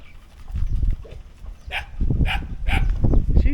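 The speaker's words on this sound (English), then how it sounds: "What you guys barking at?" Several dogs at a Thailand feeding spot bark in short repeated bursts, fairly close, with a rough rumbling background and a little talk nearby.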